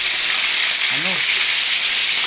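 Milkfish (bangus) frying in hot cooking oil, a steady dense sizzle and hiss throughout, with a brief voice sounding faintly in the middle.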